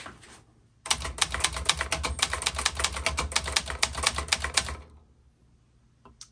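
Rapid, steady clacking of a 1960s Remington 333 portable typewriter's keys, a dense burst of strikes lasting about four seconds, close up, followed by quiet.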